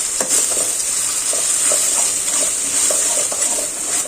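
Raw mango chutney paste, sweet-sour and spicy, sizzles and fries in a pan as it is stirred, a continuous close hiss with soft scraping strokes.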